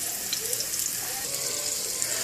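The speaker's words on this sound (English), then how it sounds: "put them in the pan, brown them up on one side" Meat patties sizzle in a frying pan as they brown, a steady close crackling hiss with small pops throughout.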